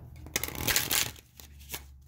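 Tarot cards are shuffled by hand in several quick, crisp bursts of riffling and flapping, close and fairly loud, with short pauses between them.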